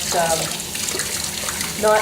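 Herbs being rinsed under a running kitchen tap while making a simple Italian tomato sauce from scratch, a steady broadband splash of water throughout, with someone talking over it.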